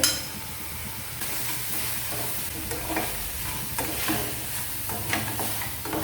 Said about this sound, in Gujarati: થોડું શેકી નાખવાનું છે આ રીતના